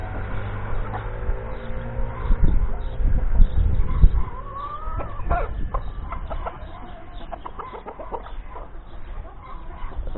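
A rooster in a garden makes scattered clucks and calls amid rustling and flapping, moderately close with background farmyard noise and no talk.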